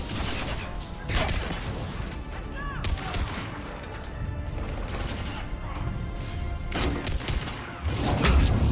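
Gunfire from the N7 shotgun in the Mass Effect 3 video game: several heavy, broadband blasts spaced seconds apart over a constant, busy combat bed, with a louder burst near the end.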